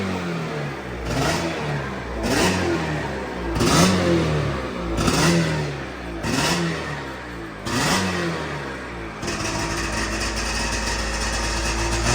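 A 1997 Sea-Doo XP 800 jet ski engine revs in repeated sharp bursts, roughly every second and a half, loud and close with a rough, clattering two-stroke tone, then settles into a steady idle.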